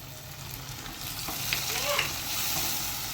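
Finely chopped tomato sizzling in a pan with golden-browned onions for a dhaba-style garlic fenugreek dish, a steady frying hiss with soft stirring scrapes, close and fairly quiet.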